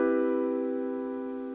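A single sustained electric piano chord plays dry with no effects, clean and steady as it slowly fades, heard alone.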